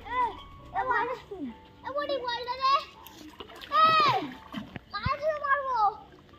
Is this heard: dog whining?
no